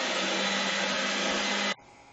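An electric hand mixer's beaters whir steadily through cheesecake batter, a loud continuous motor drone that cuts off abruptly near the end.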